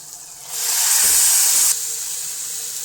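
Soaked kudampuli, Malabar tamarind, is poured into simmering fish curry masala, giving a loud, close sizzling hiss that swells for about a second and then settles into a steady bubbling simmer.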